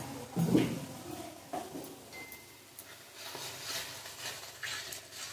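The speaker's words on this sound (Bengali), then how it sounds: "এবার একটু সামান্য জল দিয়ে খুব ভালো করে আরও কিছুক্ষণ মশলাটা কষাবো" A spice paste with a splash of water is stirred and fried in a pan for a crab curry. Soft, occasional scrapes of the spoon sound close over a low, quiet background.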